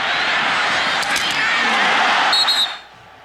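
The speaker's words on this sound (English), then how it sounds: "Crowd felt it. You could hear them in the background." A stadium crowd at a 1998 Purdue at Wisconsin college football game roars in a sustained, loud surge of cheering after a big hit, then cuts off abruptly near the end.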